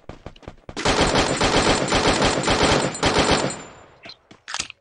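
A long, loud burst of rapid automatic gunfire from the video game Free Fire, preceded and followed by a few isolated single shots.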